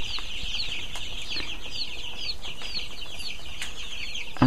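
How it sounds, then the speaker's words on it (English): Chickens cluck and call continuously inside a chicken shed, with scattered bursts of wing flapping over a steady dense farmyard din; no talking. "These are chicken which Raul bought recently, and that's his actual chicken house"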